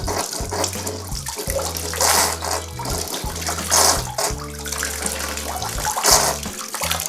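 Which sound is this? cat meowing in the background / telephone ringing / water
water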